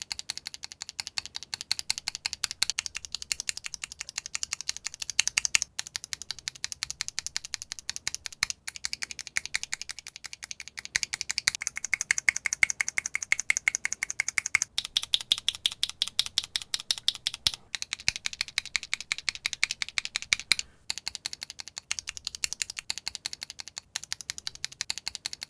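Rapid typing on a mechanical keyboard fitted with JWICK switches, a dense run of crisp, clacky keystrokes close up, alone and steady throughout.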